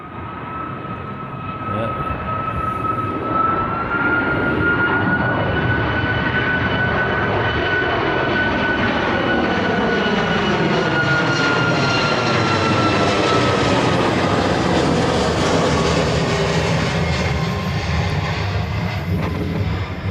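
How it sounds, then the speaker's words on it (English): A passenger airliner performing a go-around at Honolulu airport roars overhead in a long, steady, loud engine sweep, its whine rising and shifting in pitch as it passes and slowly recedes. "This guy must have come on a go around."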